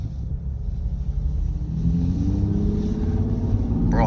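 A lifted Toyota Tacoma truck on 35-inch tires accelerates with a steady, loud low engine rumble that builds slightly as it pulls away, heard from inside or close by without talk.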